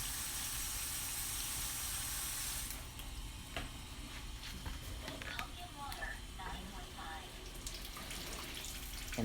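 Kangen water running from a kitchen tap diverter, a steady hiss and splash that softens after a couple of seconds into a lighter trickle with small clinks and drips, fairly close.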